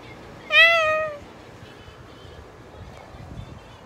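A small cat gives a single clear meow, loud and close, over a faint background hiss.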